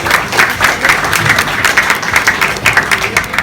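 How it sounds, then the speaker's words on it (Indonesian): A festival crowd at a beach event in Bali applauding the organisers, steady loud clapping from many hands sustained throughout, close and dense. "I want to give them a loud round of applause"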